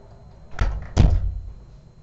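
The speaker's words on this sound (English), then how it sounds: "my cat opened the door" A cat pushes open a door indoors, giving two quick knocking thuds and a rattle of the door close by, with quiet room tone before and after.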